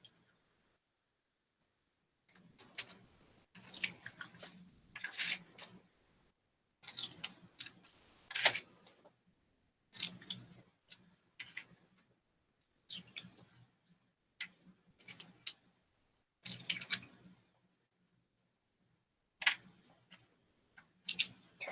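Cut pieces being plucked out of a ScratchFoam printing plate, a scattered series of faint dry clicks and light scratchy ticks separated by silences.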